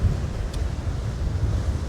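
Ocean waves wash against a rocky shore under strong wind, with a low continuous rumble of surf and gusty buffeting close to the microphone.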